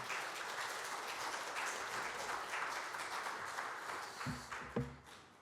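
A church congregation at a Sunday worship service applauds to welcome a pastor, a dense crackle of many hands clapping steadily, then thinning into a few scattered claps at the end.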